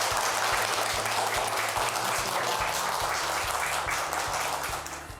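Sustained, dense applause from a lecture audience after a university special talk on decentralization, steady and full throughout before tapering slightly at the end, with a low hum beneath.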